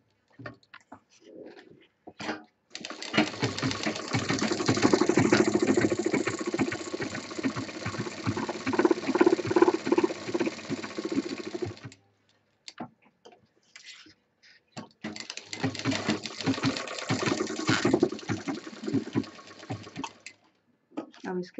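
Sewing machine running a double line of stitches along the open edges of a homemade office handbag, two long steady mechanical runs with a brief pause between, close and fairly loud.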